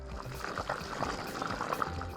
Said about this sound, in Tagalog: Ito na po, ilalagay ko na po yung ating laing.